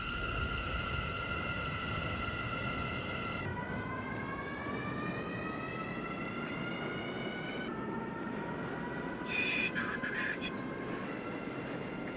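A New York City subway C train running, with steady loud rumble and rolling noise and high whining tones that step up and down in pitch, plus a brief squeal near the end.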